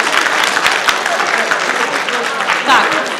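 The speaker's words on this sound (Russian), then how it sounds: "Поблагодарите друг друга аплодисментами." An audience at a talk applauds one another, dense continuous clapping filling the hall with some voices mixed in.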